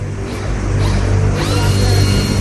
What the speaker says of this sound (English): they use surgical trepanation tools to drill through her skull